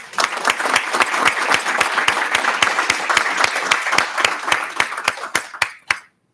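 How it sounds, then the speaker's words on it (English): Applause at a school board of education meeting: a smaller group clapping in distinct, fairly regular beats that thin out and stop after several seconds. "Let's give her a round of applause."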